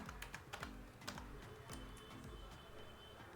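Computer keyboard typing an Excel formula, a quick run of close, crisp key clicks with steady rhythm and no talk.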